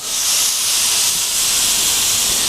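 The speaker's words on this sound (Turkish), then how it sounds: "Şimdi etimizi alıp koyup bu sesle beraber başlıyoruz tava ile buluşma anı." Beef hits a very hot pan for a mustard roast beef, and a loud, dense, continuous sizzle hisses close up without a break.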